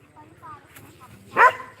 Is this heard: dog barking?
yes